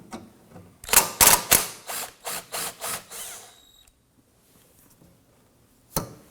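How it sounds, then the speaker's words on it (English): A ratchet works a clamp bolt loose on a 2003-2014 Volvo XC90 3.2L, in a loud close burst of rapid clicking strokes lasting a few seconds, then quiet and a single sharp click. "And loosen and remove that bolt."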